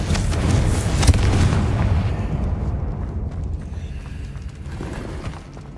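Confringo fire spell explosions in the Hogwarts Legacy video game: a burst of loud, crackling blasts in the first two seconds that decays into a rumbling tail and fades over the next few seconds.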